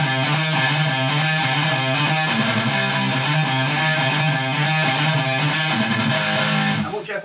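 A distorted electric guitar plays a riff: steady, chugging palm-muted notes with a driving rhythm that run for about seven seconds and then stop abruptly.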